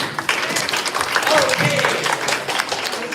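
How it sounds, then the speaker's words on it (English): An audience at a live improv comedy show applauds its volunteers, a broad wash of clapping and crowd noise that runs the whole time while a performer talks over it. "give them a round of applause"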